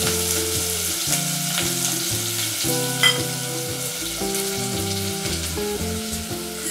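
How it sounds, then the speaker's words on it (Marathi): Sliced onion frying in about four tablespoons of hot oil in a pot on medium flame for a chicken rassa, a constant close sizzle with faint stirring, under background music and no speech. "तर तेल जे आहे ते इथे तापलेलं आहे। आता आपल्याला यामध्ये कांदा टाकून घ्यायचा"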